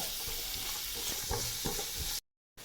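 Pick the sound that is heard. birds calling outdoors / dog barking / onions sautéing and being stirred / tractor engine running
onions sautéing and being stirred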